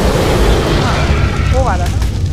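A loud booming flame-attack explosion rumbles in the video game ARK Survival during a boss fight, a continuous heavy low roar with someone talking over it.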